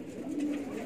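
A Jet Metic Gambir pigeon, a hen, coos softly in one short, low murmuring call close by, with no talking.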